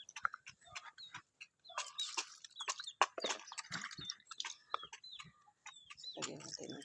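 A pet rooster clucks repeatedly at close range while being fed, with short bursts of clucks and pecking noises, and other farm birds chirp and call in the background.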